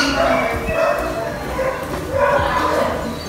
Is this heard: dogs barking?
yes